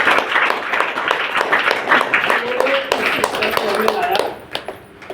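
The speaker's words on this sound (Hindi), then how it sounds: "ताली और जोरदार होनी चाहिए।" An audience at a talk about DXN health products claps in quick bursts of varying strength, with voices talking over the applause throughout.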